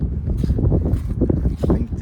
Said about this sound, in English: Little windy.